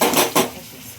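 Two quick metallic scrapes of a spoon stirring chicken biryani ingredients in a pot, close and clear, followed by a fading ring.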